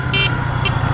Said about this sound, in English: The horn!